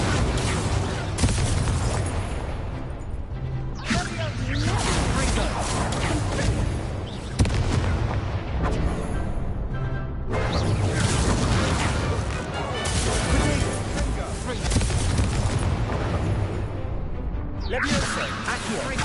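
Fiery spell blasts from Hogwarts Legacy combat, a dense, continuous roar of explosive bursts and whooshes layered with game effects, loud and sustained with periodic swells.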